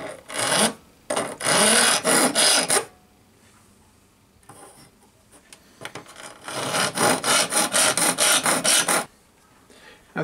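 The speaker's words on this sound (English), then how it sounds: "I'm going to clean that out with a little file" A rat tail file rasps against a boiler cladding tube part held firmly on a workbench, in two close, loud bursts of rapid back-and-forth strokes separated by a quieter pause.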